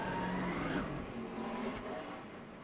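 NASCAR race car engine easing off the throttle on track before a crash, a fading engine tone drifting downward amid broad crowd and track noise, moderately distant.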